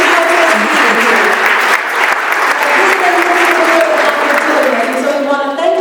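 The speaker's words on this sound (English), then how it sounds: "I want us all to give Principal Jordan a loving round of applause" Audience at a ward community meeting held in a school applauding for the principal, a loud, steady wash of clapping throughout with faint voices beneath.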